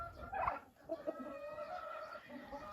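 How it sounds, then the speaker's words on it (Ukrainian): Several chickens clucking and murmuring close by, with soft scratching and shuffling around them. "то кури у нас ходять"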